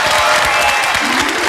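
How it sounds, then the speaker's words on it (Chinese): A studio audience on a television show bursts into loud applause with some cheering, a thick wash of clapping hands close and full throughout a brief moment. "来，掌声支持阿冠"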